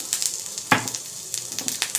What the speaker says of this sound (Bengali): কড়াইতে দিয়ে দিয়েছি সাদা জিরে আর তেজপাতা ফোড়ন